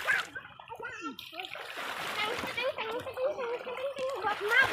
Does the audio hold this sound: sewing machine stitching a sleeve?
no